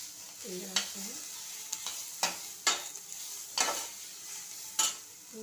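Carrots frying in a pan, a soft continuous sizzle punctuated by several sharp scraping stirs of a utensil at irregular intervals, close and fairly quiet, with no talking.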